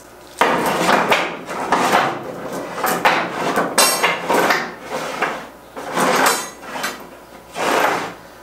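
Metal chain unwound from a large ring while building a potato harvester for a walk-behind tractor: repeated clanking and rattling bursts of steel links, close and fairly loud, in an uneven rhythm.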